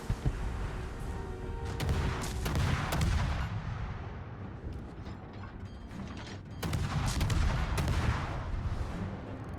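Naval gunfire from destroyers in World of Warships, tier 7 and tier 9 ships trading shots: sharp booming salvos and cracks that roll off into rumbling tails, a few bursts over a busy mechanical background.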